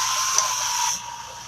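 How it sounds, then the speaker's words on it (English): Hair dryer on its cool setting blowing over drying chalk paint, a steady close airy whoosh that drops in level partway through. "So I'm going to hit this with my dryer on cool setting."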